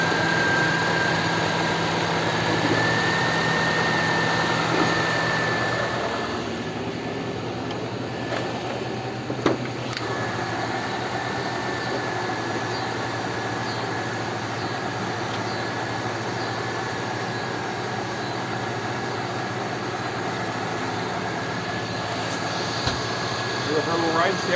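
A 1997 Nissan Altima engine idling right after a new MAF sensor install, a steady low hum with a faint whine, a brief louder stretch early on, and people talking over it.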